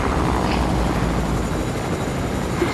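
A drone in the Fortnite video game flies overhead with a continuous loud whirring engine drone, steady and close throughout.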